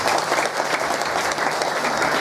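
An audience at an Islamic religious lecture applauds together in a dense, steady burst of clapping that runs throughout.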